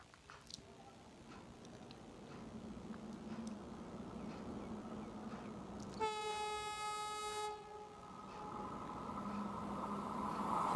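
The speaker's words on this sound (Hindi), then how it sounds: "न्यू दिल्ली से वाराणसी वंदे भारत एक्सप्रेस, भारत की पहली वंदे भारत एक्सप्रेस ट्रेन 18 2018 में जो चलाई गई थी" A Vande Bharat Express train, the semi-high-speed Train 18 type, rumbles past with steady rail noise and sounds a loud, sustained horn for about a second and a half partway through.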